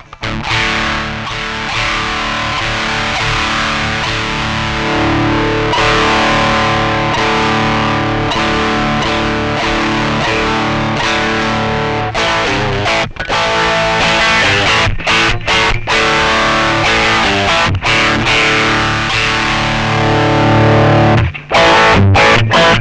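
Electric guitar runs through a MOSKY Classic AC-30 pedal, giving a dense, distorted amp-style tone that plays continuously and loudly, with choppy stops and restarts toward the end.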